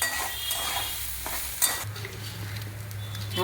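Papaya curry with fried cashews and raisins stirred in a pan, a constant sizzle with spoon scrapes and a sharp clink, close and steady, with a low hum underneath.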